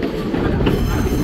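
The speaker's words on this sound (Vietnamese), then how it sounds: "Một trong những chuyến xe lửa đẹp nhất thế giới các bạn" Passenger train leaving Kandy in Sri Lanka: close, steady rumble of the carriages with rattling wheels and faint squeal over a short stretch.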